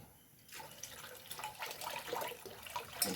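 Coconut milk runs through a strainer into a pot of tender-coconut payasam as a close, continuous splashing trickle with small uneven bursts.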